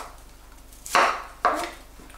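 Two crisp knife chops through cauliflower on a cutting board, cutting it into small pieces, close and distinct, about half a second apart with quiet in between.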